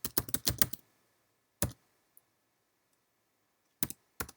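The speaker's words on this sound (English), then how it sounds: "So I'm going to type RAST create genome -- scientific, all lowercase" A command is typed on a computer keyboard: a quick flurry of crisp keystrokes, then isolated single clicks separated by quiet pauses, close and clear with no talking.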